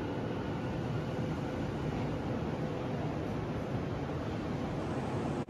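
A Tokyu F Liner rapid express bound for Motomachi-Chukagai pulls into the station, a steady rolling rumble of the train close by that holds level for several seconds, with a faint high whine above it.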